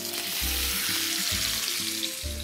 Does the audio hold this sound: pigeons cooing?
no